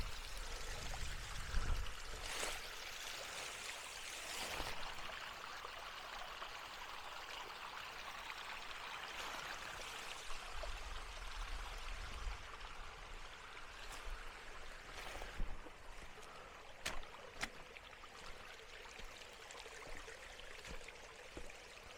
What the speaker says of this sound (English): Pretty cool little waterfall.